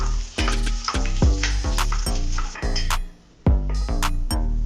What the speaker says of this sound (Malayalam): ഇനി നമുക്ക് മുന്തിരി വറുത്തെടുക്കാം